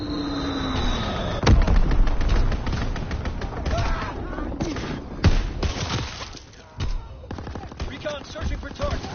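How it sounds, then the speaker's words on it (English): An aircraft strafing run in the Call of Duty WW2 video game tears through with dense, rapid gunfire bursts and sharp impacts, loud and sustained with brief lulls between volleys. "Strafing run inbound."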